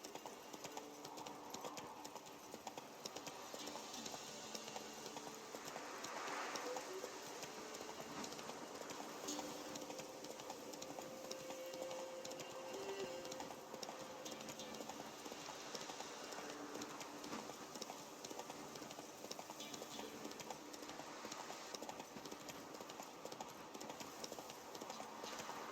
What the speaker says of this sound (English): Go, go. Let's go, Roach